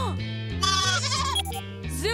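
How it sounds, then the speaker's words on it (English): Cartoon goats bleat in a PAW Patrol episode: several wavering, nasal, close bleats follow one another in quick succession, with no other sound between them. "Mayor Goodway told me my goats were here"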